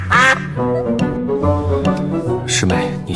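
A voice imitates a duck with loud, nasal, rasping quacks, several honking calls in quick succession over about three seconds, close and dominant.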